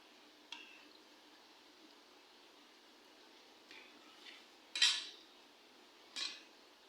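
Utensils clink and scrape against a plate during a home meal of jatka fish with soft greens stalks, a few sharp taps spread out over a quiet room with faint background hum.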